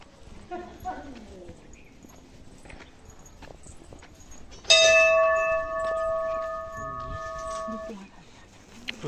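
At the old Hatkoti temple, a bell is struck once and rings out loud and close, its bright metallic tone sustaining for about three seconds before fading, with people talking around it.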